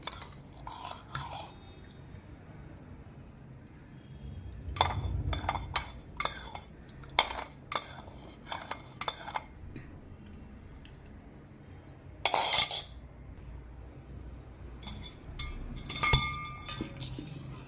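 A spoon mixes jaggery-sweetened milk into colostrum milk in a bowl, making intermittent close clinks and soft stirring scrapes against the dish, separated by quiet pauses.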